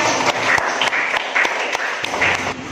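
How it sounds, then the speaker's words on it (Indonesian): A room of listeners applauds at a school group presentation, with dense, steady clapping punctuated by a few sharper claps and only faint voices. "Beri tepuk tangan yang meriah"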